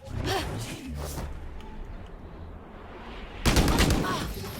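Gunfire in the tactical shooter Valorant: loud bursts of shots at the start and a heavier volley near the end, with sustained firing noise between and no clear talk.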